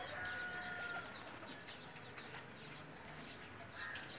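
Faint bird calls and soft coos from Pakistani flying pigeons drift over a quiet outdoor background, scattered and distant-sounding.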